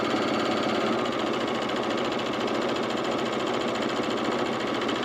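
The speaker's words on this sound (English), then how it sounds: "we're just overlocking this edge" An overlocker serging the edge of legging fabric runs continuously at high speed, a steady close mechanical whir with a rapid stitching chatter and no pauses or voices.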